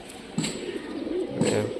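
A Rajshahi Giribaz pigeon, a held bird, gives a few soft, low coos close by against light background noise, with no speech.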